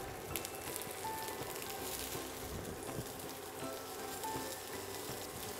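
Boiled carrots and other vegetables sizzle steadily in a frying pan, a constant close crackle with no talk.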